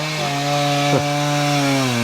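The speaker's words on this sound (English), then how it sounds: "So I was chopping up some firewood." A motorized saw cutting firewood drones steadily at a constant pitch, briefly dipping as it bites into wood, loud and close.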